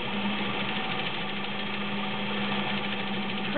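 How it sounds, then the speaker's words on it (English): A heavy-duty vintage White Model 130 sewing machine, a 1.3-amp electric model, runs steadily while stitching a widening and narrowing embroidery design, a continuous motor whir with fine rapid needle chatter and no voices. "we're going to widen and narrow our design while we sew"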